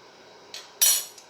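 A metal spoon clinks against a pot of sauce: a light tap, then a brighter, ringing clink, then a faint final tick, close and alone.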